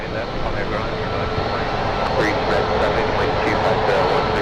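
An EVA Air heavy jet taxis across a taxiway at San Francisco International Airport, its engines giving a steady distant roar, with a voice talking over it and a few faint clicks toward the end.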